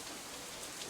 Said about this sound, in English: The rain increases a little more